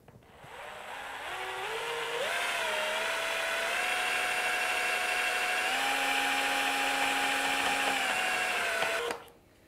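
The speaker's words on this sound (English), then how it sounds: "There you can see the paint mixing." A power drill with a mixing paddle stirs white interior wall paint, its motor spinning up and then holding a steady high whine for several seconds before cutting off.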